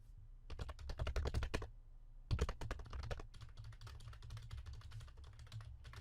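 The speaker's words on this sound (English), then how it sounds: "Yes, I am typing out the joke I just made." Rapid keyboard typing in quick bursts, with a short pause between flurries of clicking keys, close and fairly quiet.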